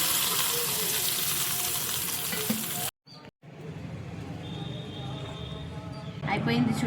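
Hot curry-leaf tempering is poured into a ground ridge gourd chutney, giving a loud, steady sizzle that cuts off abruptly and is followed by quieter stirring and faint handling sounds.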